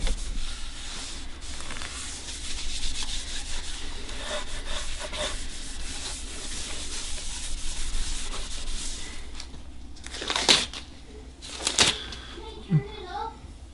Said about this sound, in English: Now we rubbed out all the excess.